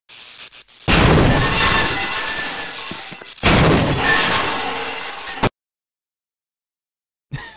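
Black Mesa blown up in the video game Half-Life: Opposing Force, two huge roaring explosions, each a sudden loud blast that rumbles and fades, the second cut off abruptly into silence.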